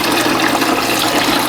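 Water pours steadily onto a philodendron plant in its pot, a loud, continuous rushing splash with no break and no talking.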